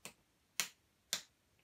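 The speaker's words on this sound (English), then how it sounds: "Or maybe you could just use the tips of your fingers." Three soft, light fingertip claps, evenly spaced about half a second apart, each a brief crisp tap, alone and close in a quiet room during a rhythm session.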